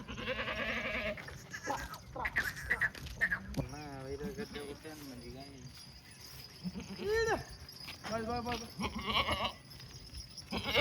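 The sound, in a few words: red Kathiawadi goats bleating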